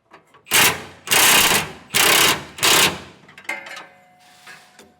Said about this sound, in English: So I'm going to hold that with my wrench and just snug it up just a bit with the impact